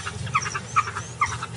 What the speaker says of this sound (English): Wild dogs running around through the high grass.